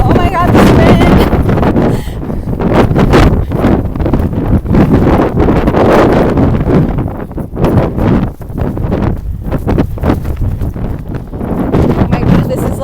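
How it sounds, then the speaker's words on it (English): Strong gusting wind buffets the microphone on a desert hiking trail between Cabazon and Whitewater River, a loud continuous roar with rustling surges, close and unbroken for the whole stretch. "Oh my god, this wind!"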